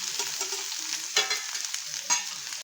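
Onions sizzle steadily in hot oil in a pan for okra bhaji, with two louder spatula scrapes and stirs breaking through the continuous frying hiss, close and alone.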